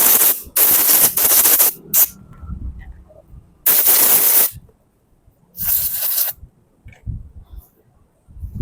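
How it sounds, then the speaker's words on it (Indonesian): Cleaner sprayed into the fuel passage of a Honda Blade carburetor: three loud, sharp hissing bursts, each about a second long and separated by quieter pauses with faint low knocks and handling noise. "jangan lupa kita semprot juga untuk jalur bensinnya"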